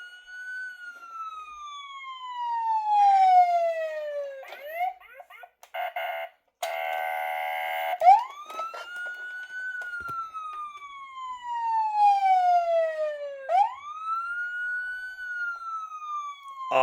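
A Motor Max 1/18 scale toy police interceptor plays its electronic siren, a loud wailing tone that sweeps down and rises again in repeated cycles, briefly broken by a harsh buzzing burst partway through.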